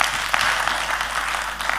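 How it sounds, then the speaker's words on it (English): An audience claps for a workplace speaker at a marketplace conversation event, a steady dense patter of many hands close by, lasting throughout with no talk over it. "Let's clap for Simaloi."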